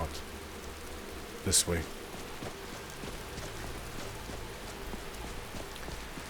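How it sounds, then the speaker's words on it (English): Steady rain falls in a fantasy video game, a constant soft hiss of drops running throughout with a brief sharp noise near the middle and a short spoken phrase. "I can make it rain if it's not"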